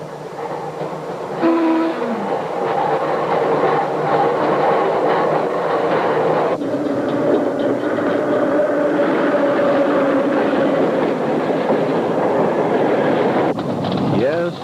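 North Shore Line interurban train from 1945 running through city streets, a steady loud rumble of wheels and motors with a brief horn-like tone near the start and shifting tone as it rolls on, with some talk mixed in.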